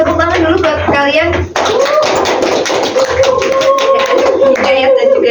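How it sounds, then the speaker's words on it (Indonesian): Students in a classroom clap for their classmates during a lesson, loud close clapping mixed with voices talking over it throughout. "Tepuk tangan dulu buat kalian."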